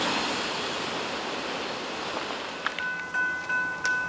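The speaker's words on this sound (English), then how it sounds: "Here comes another train." A train passes along the Allegheny as a broad, steady rumble and rush of rail noise. Near the end come a few metallic clanks and a faint high squeal.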